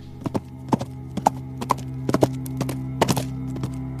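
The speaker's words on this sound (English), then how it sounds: "He led her out and jumped on her back, and rode away as fast as the wind till he came to the forge." Hooves of a grey mare clop on a hard surface in an uneven, moderately quick rhythm, close and loud, a run of sharp hoof strikes over a low steady background.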